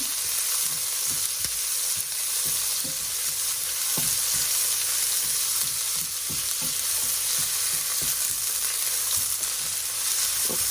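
Onions cut in half-rings sizzle loudly and steadily in a hot pan, with occasional light clicks of stirring.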